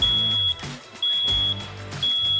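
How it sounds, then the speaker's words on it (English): A home smoke alarm sounds its steady high-pitched beep, repeating in regular pulses about every half second, loud and close, with no talk. "Your smoke alarm can make two noises, a beep, which sounds like this,"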